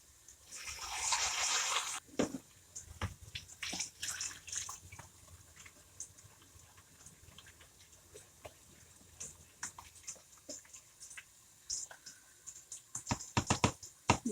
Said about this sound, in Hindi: इसमें मैं और पानी डालूँगी।